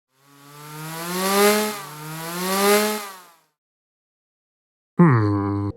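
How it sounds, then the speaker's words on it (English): Chainsaws as a sound effect: two long, loud revving bursts that rise and fall in pitch, then a brief silence and a sharp third burst that starts abruptly and runs to the end. "what happened to the 2 chainsaws I threw into the air earlier?"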